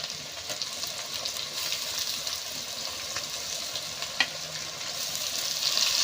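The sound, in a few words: onion frying in pan with cumin and garlic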